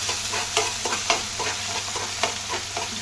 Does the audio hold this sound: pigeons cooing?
no